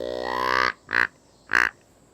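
A hand-held game call is blown close by: one long, rising, reedy grunt followed by two short, clipped honking notes, each standing alone with brief pauses between them.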